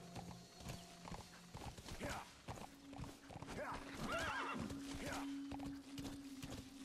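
A horse in Metal Gear Solid V whinnies loudly amid close, uneven hoofbeats as it moves, with someone talking over the sounds.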